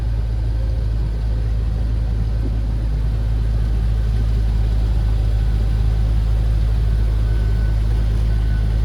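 A 2006 Pontiac GTO with a 400-horsepower LS2 engine and six-speed manual runs steadily, a loud, continuous low rumble with no revving, heard up close and without voices.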